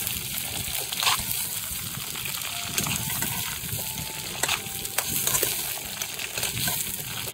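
Pork ribs fry over maximum heat in a pan for a Lithuanian festive stew, giving a steady close sizzle with wet bubbling and occasional sharp pops and spatters throughout, no talk.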